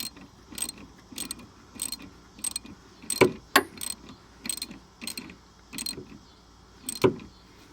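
Ratchet wrench tightening a motor connector onto the motor shaft in a Pontiac Grand Prix, a series of short clicking bursts in steady rhythm, close and fairly quiet, with two sharper metallic clacks in the middle.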